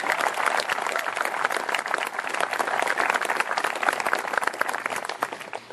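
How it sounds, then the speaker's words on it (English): A crowd at the Stellafane 2014 amateur telescope makers' awards presentation gives a round of applause, loud and close, with sharp individual claps throughout a sustained, busy wash of many hands. "So give him a round of applause, too."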